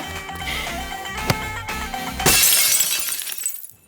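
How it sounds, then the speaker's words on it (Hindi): Glass shatters in one sudden crash during a film comedy scene. A bright, splintering burst rises over steady background music and then trails off. "महीने में 12वीं बार कांच टूटा है।"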